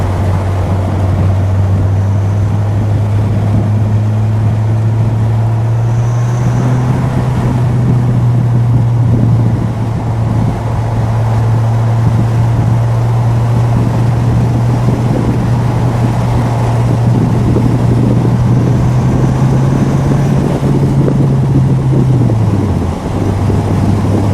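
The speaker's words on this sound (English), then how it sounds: "It's got that very throaty exhaust" A 1995 Dodge Viper RT/10 drives with a steady, low engine drone throughout, a deep throaty exhaust hum, with wind and road noise layered over it.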